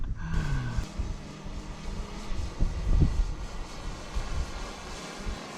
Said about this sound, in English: Let's see if the drone will come back down.